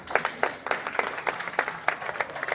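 An audience at an Eid Milan gathering claps in a short, uneven burst of applause, with a fairly dense patter of hands for a couple of seconds indoors.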